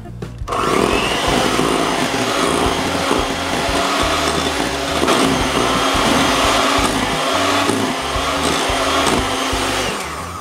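An electric mixer whips cream for a no-bake Cadbury Creme Egg cheesecake filling, a loud close steady whir that starts abruptly and runs on with a wavering, grinding texture.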